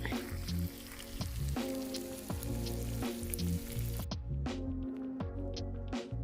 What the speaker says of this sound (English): I pre-cook the ribs together with the fish to save time and then put them on the grill until it's completely cooked.